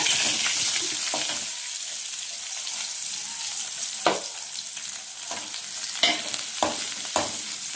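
Small shallots drop into hot oil with mustard seeds and fry with a steady close sizzle, broken by sharp clinks and scrapes of stirring at several points, with no speech.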